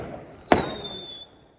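A single firework or firecracker goes off outdoors on New Year's Eve, one sharp loud bang with a brief decaying tail over quiet background and a faint steady whistle-like tone.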